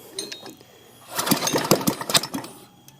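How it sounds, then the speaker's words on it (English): A pull-start engine with its carburetor on choke, silent at first, then a second and a half of loud, rough, uneven firing bursts as it sputters toward starting. "Go ahead and pull it again. I bet you it'll start."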